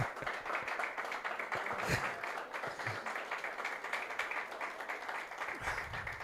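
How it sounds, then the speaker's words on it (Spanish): Applause from a church congregation, fairly faint and distant, a continuous patter of clapping with a few sharper claps standing out. "Dale un aplauso."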